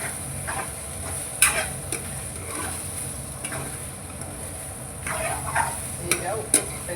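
Egg palya is mixed and stirred in a pan, giving soft scraping and intermittent clinks of the spoon against the pan over a steady background hiss, with a few sharper knocks.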